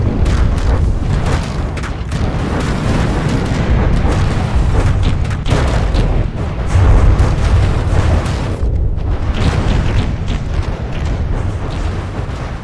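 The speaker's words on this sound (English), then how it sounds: "very rapid fire guns" Rapid-fire guns and propeller aircraft in a vehicle combat video game, a dense continuous roar of booming gunfire and engine noise with no pauses.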